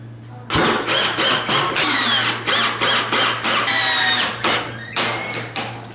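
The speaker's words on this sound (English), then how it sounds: "I'm just going to screw it right to, there's a 2x4 that runs right behind this wall" A power drill drives screws through wood into a 2x4 stud behind a wall, loud and close, its motor whining in short repeated bursts with brief pauses between pulses over a steady low hum.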